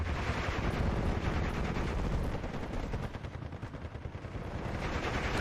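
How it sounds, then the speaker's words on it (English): Dense, continuous automatic gunfire and explosions from fighter aircraft strafing ground targets in Steel Division 2, a loud crackling barrage that never lets up, with no voices over it. "We see some desperate air-to-ground gun runs by fighters."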